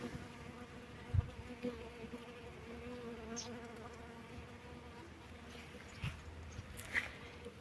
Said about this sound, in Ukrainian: Полюбляють бджоли її.